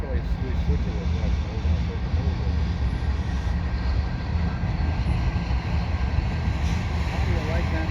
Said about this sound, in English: And here comes the freight.